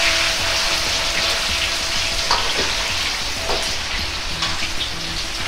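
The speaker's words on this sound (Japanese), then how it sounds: "油が180度くらいに温まったら、ゴーヤを入れます。" Bitter gourd (goya) deep-frying in oil heated to about 180°C gives a steady, dense sizzle and crackle with occasional sharper pops, close and continuous throughout with no voices.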